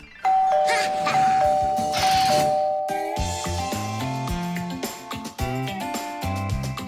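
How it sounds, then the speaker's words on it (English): A cartoon doorbell chimes with a sustained bright ding tone, then a cheerful melodic tune of tonal notes plays on, fairly loud and steady with no talking. "Real guests always ring the bell."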